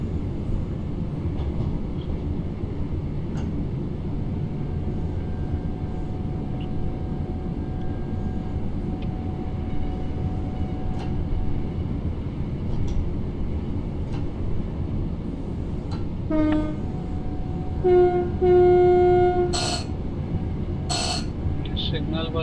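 Class 323 electric multiple unit on the Birmingham Cross City line in Train Sim World 4, running with a steady rumbling hum and rail noise throughout, joined late by short whining tones and a couple of sharp buzzer-like beeps.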